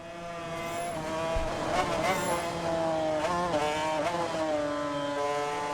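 Two-stroke racing motorcycles in the RIDE 4 video game scream past in a sustained, loud engine drone, with pitch sweeping up and down through gear changes and throttle blips.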